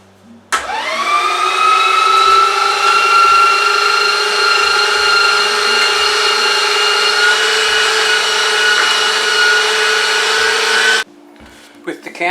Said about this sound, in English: I ran it through the grinder one more time